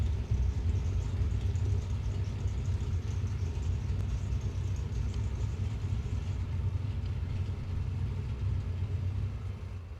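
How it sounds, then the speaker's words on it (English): Down at a drag racetrack, a car engine runs in a low, steady rumble for ten seconds without letup, moderately loud and close, with no talk over it. "who's got their car running down here that's annoying me?"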